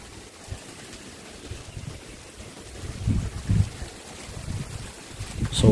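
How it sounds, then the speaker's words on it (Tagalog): Strong wind buffets the microphone at the middle of a hanging bridge in Tigbauan, Iloilo, a steady rushing roar with louder gusts thumping in toward the end, no voices. "So medyo makusog ang hangin sa tunga."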